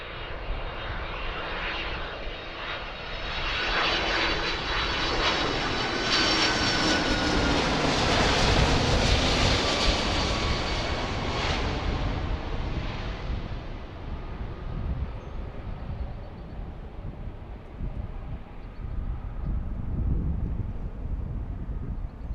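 An airplane takes off from runway 27 left at Philadelphia International Airport, heard from Fort Mifflin as a loud, close roar of jet engines. It swells over about ten seconds, then slowly fades, with wind buffeting the microphone throughout.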